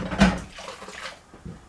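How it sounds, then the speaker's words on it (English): A sponge dunked and squeezed in a bucket of water while a black stove is cleaned: one brief splash and slosh near the start, then softer dripping and wet handling sounds, close and moderately quiet. "Now I'm going to wet my sponge and clean it up again in the bucket of water."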